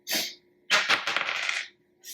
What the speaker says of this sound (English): I could roll the dice